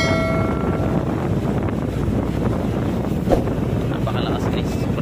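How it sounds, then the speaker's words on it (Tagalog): Strong typhoon wind roars across the microphone while a boat rocks through heavy water at sea, with rushing waves around eight feet and gusts buffeting throughout. "Napakalakas guys, sobrang lalaki na alon."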